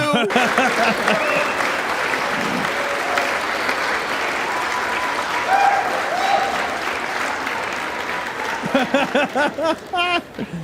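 Members of Congress in the House chamber applaud during the speaker vote, a sustained, dense wash of clapping from a large crowd that thins out near the end as a voice begins speaking.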